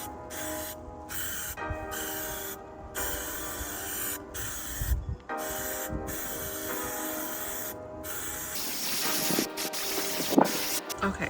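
Paint spraying outdoors in a windy tent: bursts of hissing spray repeat in a stop-start rhythm, close and fairly loud, with mechanical clicks between passes and a denser, louder spray toward the end.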